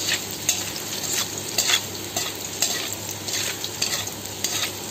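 Mixed vegetables, potato, cauliflower and beans among them, sizzle and fry in a pan while a spoon stirs and scrapes in steady irregular strokes, close and fairly loud, with no talking.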